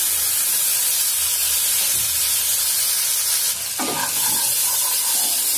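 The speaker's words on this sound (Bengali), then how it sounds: "এই পেস্টটা আমি ভালো করে মিশিয়ে তেলের মধ্যে দিয়ে দেবো" Spice paste stirred into hot oil for mustard pabda fish hisses loudly and evenly, close to the pan, with a burst of spattering and scraping partway through; no talk is heard.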